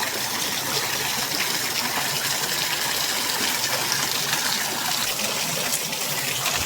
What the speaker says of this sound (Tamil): இங்கே ஒரு சின்ன ஃபால்ஸு, அப்படியே இப்படி விழுந்து இது போகுது.